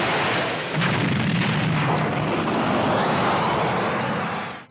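A massive anime-style explosion as Kid Buu destroys the Earth in Dragon Ball, a loud, sustained roaring blast that fills nearly five seconds before cutting off abruptly.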